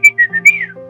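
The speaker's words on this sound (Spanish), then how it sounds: "yo empecé a silbar, pero el silbido de mi papá" A person whistles a short tune of several bright, clear notes, sliding down at the end, close and fairly loud.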